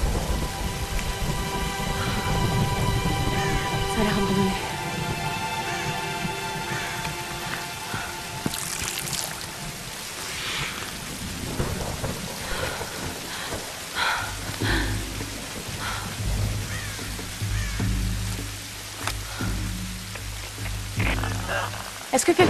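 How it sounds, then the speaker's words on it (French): Rain and rumbling thunder in the video game Tomb Raider, a steady loud downpour with low thunder rolls running throughout, occasional game sounds and a low drone layered over it, and speech appearing briefly. "il pleut"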